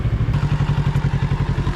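A Kawasaki Z650 motorcycle engine runs with a rapid, even low knocking pulse, close and loud, a rhythmic thudding throb repeating many times per second.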